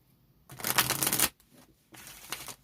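Love Oracle cards shuffled by hand in two bursts, a long riffling flurry followed by a brief pause and a shorter second shuffle, close and crisp with no talking.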